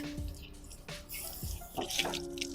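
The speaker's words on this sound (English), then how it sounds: "Drain the water, and now it's going to come out super easy." Pressurized water from a Model D unit draining as a fitting is twisted off, with splashing and trickling, a few sharp clicks and knocks of handling, and a steady hiss of flow near the microphone with no talk.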